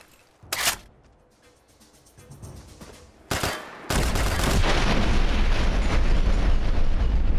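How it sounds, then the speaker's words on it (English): In the Fallout game (Tale of Two Wastelands), a bus explodes with a nuclear blast: a couple of sharp booms, then a sudden loud, sustained roaring rumble that fills the rest of the clip. "Standing next to buses that can explode with a nuclear explosion? Bad idea."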